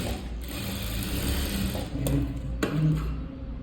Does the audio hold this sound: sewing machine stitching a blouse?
yes